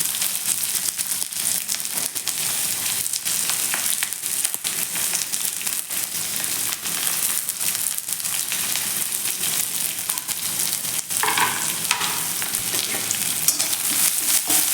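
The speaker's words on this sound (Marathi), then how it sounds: "कांदा एक मिनिटभर असा छान असा परतून घ्यायचा आहे" Thinly sliced onion fries in hot oil with cumin and curry leaves, giving a loud, continuous sizzle and crackle close up, with occasional stirring scrapes and no talking.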